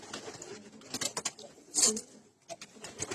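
Silver pigeons on a small farm coo in soft repeated bursts close by, with brief gaps and light fluttering rustles between the calls.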